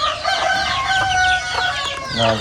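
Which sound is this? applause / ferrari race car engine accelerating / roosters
roosters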